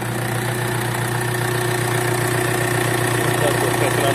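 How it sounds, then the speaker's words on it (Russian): Mitsubishi L200 with the 4D56 diesel engine idling after restart with the drive belt removed, a steady close, continuous engine drone with fine rhythmic clatter and no break across the whole stretch. "Так, мы запустили двигатель."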